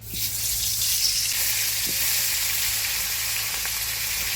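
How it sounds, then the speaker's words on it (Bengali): Pieces of catla fish, rubbed with turmeric and salt, fry in hot oil in a kadai with a loud, steady sizzle and crackle, close by and continuous, with no talking. "ঝোলের জন্য কাতলা মাছটা ভেজে নিব।"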